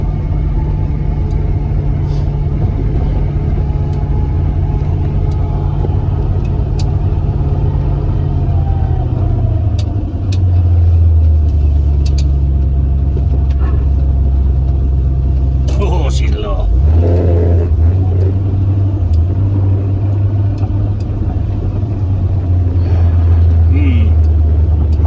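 A V8-swapped Volvo idles roughly, a loud, deep, uneven rumble whose pitch sags and then surges, with a brief clunk midway, while people talk over it.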